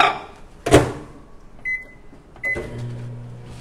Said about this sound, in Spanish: Voy a ponerlo al microondas.